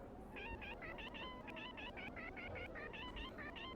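A cat meows in rapid repeated calls, a quick series of about twenty short, chirpy mews in a steady rhythm, faint and fairly close against low background hiss.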